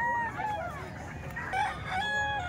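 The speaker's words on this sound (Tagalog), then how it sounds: "Ang daming manok dito ngayon mga bossing." Chickens and roosters at a bustling poultry market in Calumpit, with repeated overlapping crowing calls rising over steady crowd murmur, moderately close and continuous.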